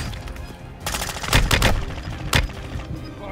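Several loud gunshots from the Call of Duty Warzone 2.0 battle royale crack in a quick cluster, then one more sharp shot follows after a short pause, over low background game noise.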